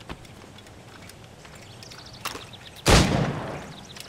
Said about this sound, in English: Press Y to shoot the highlighted target with your pistol.